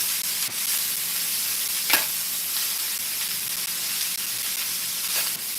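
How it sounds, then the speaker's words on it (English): Sweet peppers and quinoa sautéing in a pan for a stir fry: a continuous close hiss of frying, with occasional spatula scrapes and clicks, and no talking. "So I'm just gonna saute this."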